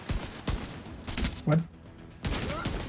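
Shotgun blasts in a first-person shooter ring out as several sharp bursts spaced through a short stretch, mixed with game noise while someone speaks briefly.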